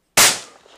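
A single close shotgun blast fired at a wood pigeon: one sharp, loud crack that decays quickly into a short outdoor echo.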